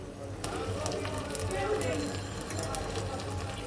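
Bay leaf, cardamom and cinnamon sizzling in hot oil for a chicken biryani, a close, continuous crackling fry with scattered sharp pops and light utensil clinks.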